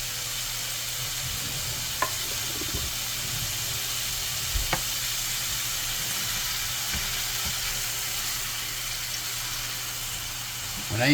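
Frozen meat sizzles steadily in a pan on a stovetop while shepherd's pie filling is cooked, a constant close hiss with a few faint scrapes and clicks, no voices.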